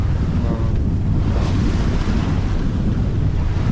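Open-ocean waves wash and slap against a small sailing boat beating into them, forming a loud, constant rushing roar mixed with heavy wind buffeting the microphone.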